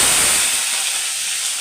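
Garlic dropped into hot oil with already-popped mustard seeds while making bitter gourd pickle (pavakka achar): a loud, steady sizzling hiss that is strongest at first and then eases slightly but continues throughout.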